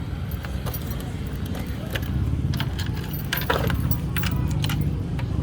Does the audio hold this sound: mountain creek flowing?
no